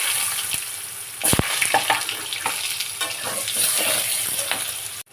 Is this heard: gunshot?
no